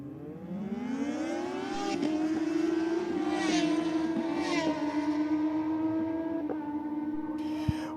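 A Suzuki Hayabusa drag racing motorcycle accelerates hard down the strip, its engine note climbing and holding a loud, steady whine through several gear changes, ending with a sharp cutoff.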